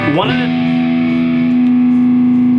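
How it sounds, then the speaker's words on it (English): A distorted Gibson Epiphone electric guitar strikes a note that sustains with a buzzing, gritty tone and rings on steadily. "Once you put that distortion on, the guitar becomes a little bit more difficult to control"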